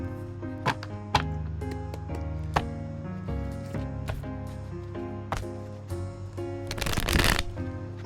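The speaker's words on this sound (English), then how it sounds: "So while shuffling the cards" Tarot cards are shuffled close up in quick riffling bursts, with soft taps and a louder flurry of shuffling near the end.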